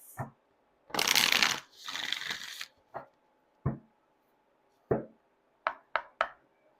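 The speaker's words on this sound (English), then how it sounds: "Let's grab an oracle card for the sign of Pisces." An oracle card deck is shuffled in a few quick riffles and slides, followed by several sharp taps and knocks of the cards, close and fairly quiet, with no speech.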